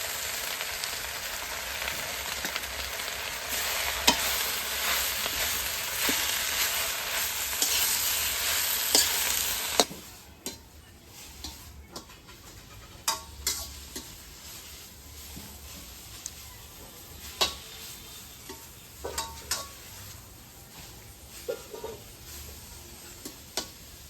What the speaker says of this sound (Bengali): খারকনের পাতা ভাজা আমার হয়ে গেছে, এখন ভাজাটা নামিয়ে নেব।